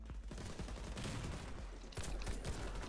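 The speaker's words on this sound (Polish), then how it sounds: "Przeładuj szybko i strzelaj." Sustained automatic gunfire in the shooter Warface, a dense, continuous rattle of rapid shots held at a steady loud level throughout, with no talking.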